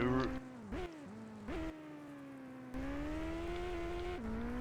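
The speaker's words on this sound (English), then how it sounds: "these sound effects the car's making is the exact same sound effects" Synthetic car engine hum from the PS2 game Captain Scarlet that drones steadily and revs up in short bursts, with pitch sliding as it accelerates, moderately quiet with no talking.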